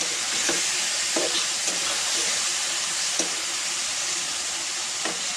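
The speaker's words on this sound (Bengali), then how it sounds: "মাছগুলো দিয়ে দিয়েছি, ভালো মতো মিক্স করে নেবেন" Fish pieces for a fish curry sizzle steadily in a hot pan, with several distinct scraping stirs of a spoon breaking through the constant frying hiss.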